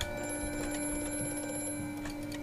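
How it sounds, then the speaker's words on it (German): A telephone ringing in the horror game Amnesia: A Machine for Pigs, a faint steady electronic ring with sustained tones over a low ambient hum, heard alone without speech. "Oh, schon wieder Telefon."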